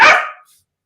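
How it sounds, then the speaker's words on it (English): A single sharp bark from a dog named Spider, loud and close, cutting off quickly into silence. "Now Spider's barking."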